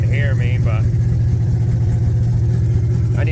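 A Chevy engine idles loudly with its exhaust open right off the headers, a steady deep throbbing rumble filling the space while someone talks over it in short bursts.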